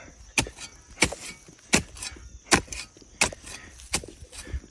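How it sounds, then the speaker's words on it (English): A hand digger chops a plug of soil on a Civil War relic metal-detecting hunt, about seven sharp, evenly spaced strikes, close and crisp, with no talking. "Trying to dig a plug with one hand is kind of not fun."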